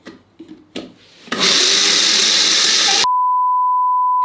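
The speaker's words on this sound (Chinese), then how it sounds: "煮好的南瓜放入搅拌机内，加入一点高汤，搅成南瓜浓汤。" A blender purees cooked pumpkin with a little stock into soup: after some brief clattering comes a loud, steady whirring roar lasting under two seconds. It cuts off abruptly and is followed by a sustained electronic beep tone.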